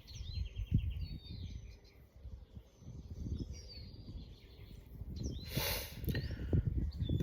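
Several birds chirp and sing faintly outdoors in short high phrases scattered throughout, with a brief louder burst of calls near the middle, over low rumbling background noise.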